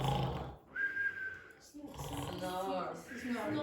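A person in a classroom imitates snoring with their voice, making a few rough, nasal snore sounds with whistling tones between them. The sounds are fairly close and moderately quiet.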